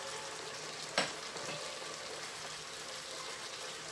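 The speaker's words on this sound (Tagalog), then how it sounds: "What we're going to do next is idagdag natin yung ating 12 eggs." Twelve eggs go into a pan of cooked chop suey, which keeps up a steady loud sizzle, broken near the start by one sharp splat and a short sputter.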